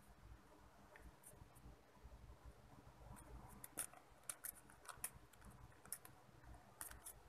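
Scissors snip repeatedly in quick, irregular crisp clicks, close and fairly quiet, over a soft background hum.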